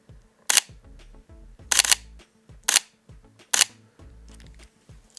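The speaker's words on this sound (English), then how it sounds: "And now let's go with the single." A Sony Alpha 7 III mechanical shutter fires in single-shot mode close to the microphone, four loud separate clicks with short pauses between them and no talking.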